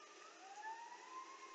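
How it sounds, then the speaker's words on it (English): A siren wails faintly in the distance outside, its rising tone picked up by a microphone indoors, soft and brief, with no speech over it. "I can hear that siren in someone's mic"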